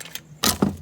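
A bunch of keys found while inspecting a VC Valiant car jangles in two quick bright bursts, close and crisp, separated by brief quieter handling.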